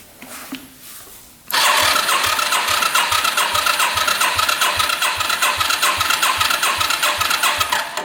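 A rare motorcycle engine is cranked over with the throttle open during a compression test, a loud, close, rhythmic chugging that starts abruptly after a brief quiet lead-in and keeps an even pulse to the end.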